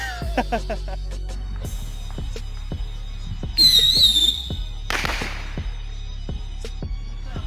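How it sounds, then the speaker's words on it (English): Fireworks crackle and pop in a steady series of sharp bursts, with a whistling streak rising briefly in the middle, heard from a moderate distance. "She loves the sound of fireworks."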